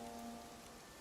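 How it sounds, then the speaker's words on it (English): Steady rain falls in Infinity Nikki, a soft, even hiss of drops spattering on surfaces with a faint tonal hum underneath, brief and uninterrupted. "It's been raining this whole time, right?"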